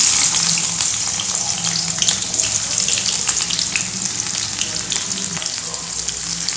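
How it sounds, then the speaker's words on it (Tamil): Onion slices hit hot oil in a pan for mushroom kurma and sizzle loudly and continuously from close by, a dense, bright hiss that holds steady throughout with no one talking. "எண்ணெய் காஞ்சிருச்சு, அதில் வெங்காயம், கடுகு எதுவுமே நம்ம போடலை,"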